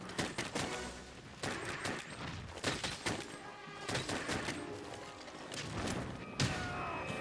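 Heavy weapon fire in the video game Monster Hunter World on Xbox One X, a series of loud booming shots and thuds at irregular intervals with crashing impacts, close and dominant.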